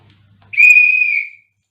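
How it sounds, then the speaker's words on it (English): A teacher blows a whistle once, a single clear, piercing tone held for close to a second, loud and near, with silence before and after. "This is one whistle."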